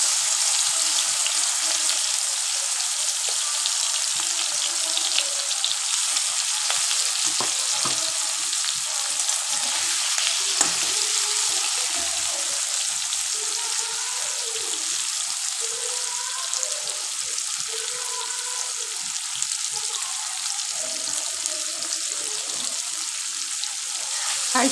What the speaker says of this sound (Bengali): তেলটা গরম হয়েছে, এবার আমি এক দফা চিংড়ি মাছ দিয়ে দিলাম